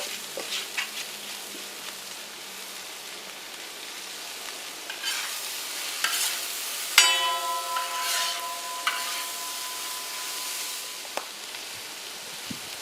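Onions and potatoes fry in oil with a soft, steady sizzle that swells midway as they are stirred, with a few clatters and scrapes of a utensil against the pan.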